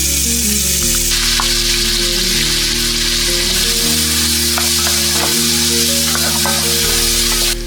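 Crushed onion hits hot oil with star anise, black cardamom and cloves for a dhaba-style chicken curry, giving a loud, steady sizzle and crackle that runs the whole time over low, sustained background tones.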